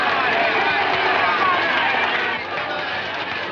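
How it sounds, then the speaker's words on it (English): A large theatre crowd waiting for a show roars in a dense, steady wall of excited voices, loud and close throughout, dipping slightly toward the end. "What a crowd."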